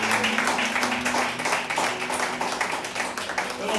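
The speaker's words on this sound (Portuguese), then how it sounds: "Você pode aplaudir o Senhor nessa noite, aleluia." A church congregation applauding during a worship service, dense continuous clapping and cheering throughout the short moment, fairly loud, with voices mixed in.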